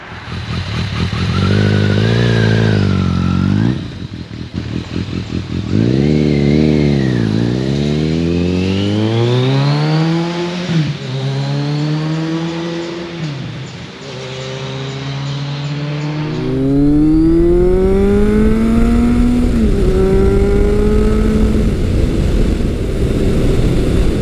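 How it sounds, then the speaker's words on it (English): A Kawasaki ZRX1200R motorcycle is ridden hard, its engine loud and close as it climbs through repeated rising revs and gear changes, with a brief drop in pitch between shifts and wind noise throughout. "I'm currently riding Kawasaki's mighty ZRX1200R, and this bike is seriously capable and seriously fun."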